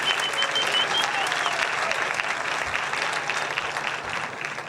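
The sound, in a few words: audience applause after trombone solo at jazz concert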